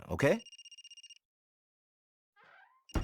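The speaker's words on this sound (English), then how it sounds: "That's my phone." Mobile phone ringing in the game Another Code, a quick series of about ten rapid electronic trilling pulses right after a short spoken word, then near silence before a faint chime.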